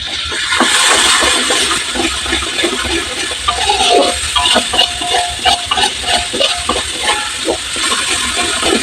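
Water pours into a pan of curry and oil in a boat galley, making a continuous splashing, hissing gush with bubbling bursts, loud and close throughout.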